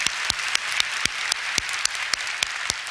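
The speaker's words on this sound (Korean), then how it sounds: "박수 한번 하시죠." A church congregation applauds together during a sermon, a steady wash of many hands clapping with a few sharper claps standing out, even and sustained throughout.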